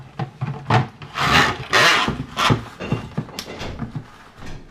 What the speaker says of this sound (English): And it has a ratcheting lid, so you get it down real tight.